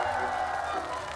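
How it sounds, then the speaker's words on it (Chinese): A studio audience on a variety game show cheers and claps for Yang Di, a dense, steady wash of crowd noise filling the short moment without letup. "来，掌声给杨迪"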